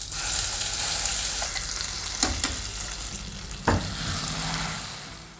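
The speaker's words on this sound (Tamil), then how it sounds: "ஏன்னா நம்ம பரங்கிக்காயை நல்லா வதக்கிட்டோம்" Pumpkin sautés in a pan, a steady close sizzle of frying with a few stirring scrapes and clinks of a utensil, no voices.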